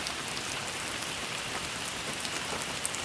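Steady, dense rain falls close by, a continuous even patter of drops on a surface with no pauses and no voices throughout.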